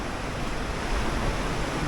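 Ocean surf at Mystic Beach on Vancouver Island, a dense, continuous roar of waves washing in, loud and close with wind noise mixed through and no clear breaks.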